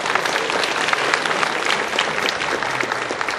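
A church congregation at a Sunday service applauds to welcome a guest, dense, continuous clapping from many hands that fills the room at a steady level.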